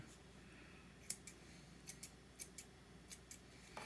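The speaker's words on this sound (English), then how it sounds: "So I'm going to just trim this a little bit." Scissors snip Merrow serger thread in a series of sharp, quiet clicks spaced irregularly across the clip, close by against a faint steady background hum, with no talking.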